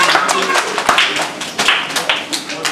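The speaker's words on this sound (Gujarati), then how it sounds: "આપણે સૌ તાળીઓથી આ વાતનો આનંદ વ્યક્ત કરીશું" An audience claps in a dense burst of hand claps that runs steadily throughout, fairly loud and close, with uneven peaks and no clear rhythm.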